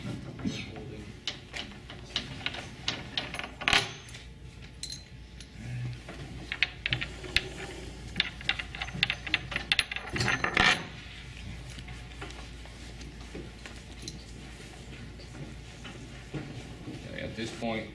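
Bolts being worked loose and removed from a Steinway piano crate: scattered metallic clinks, taps and ratcheting clicks at close range, mixed with handling noise and a person talking.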